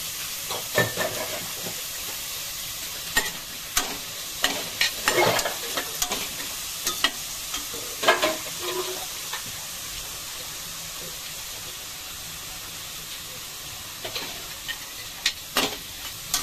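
Chopped tomatoes fry in a Hilux pot with a steady, bright sizzle and hiss, broken by repeated sharp scraping taps of a stirring spoon against the metal, close and unaccompanied by talk.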